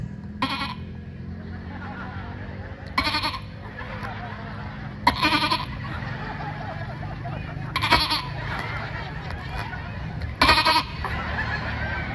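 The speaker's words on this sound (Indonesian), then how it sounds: "Itu anak kambing." A goat kid bleats in short, loud bursts roughly every two to three seconds over steady outdoor background noise on a village road.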